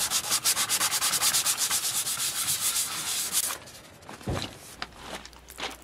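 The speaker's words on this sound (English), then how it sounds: "Sand out scratches with 220 grit sandpaper." Sandpaper of 220 grit rubs back and forth over scratched car paint in a steady, close, rhythmic scrubbing that stops partway, leaving softer scraping and handling noises.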